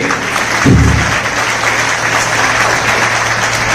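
Steady, loud applause from a seminar audience in Rohtak fills the room, with a brief low voice or thump early on beneath the continuous clapping.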